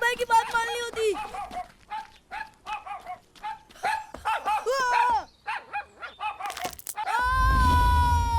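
A cartoon dog in a 3D animated series barks in quick repeated yaps while chasing someone, the barks mixed with animated voices and ending in a sustained cry.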